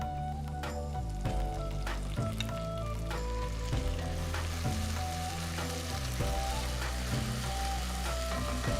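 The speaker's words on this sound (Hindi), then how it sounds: "अब इसमें जाएगी जिंजर और ग्रीन चिली की पेस्ट" Ginger and green chili paste frying with onion in hot oil, a steady crackling sizzle with light stirring scrapes, partly masked by sustained tonal background music.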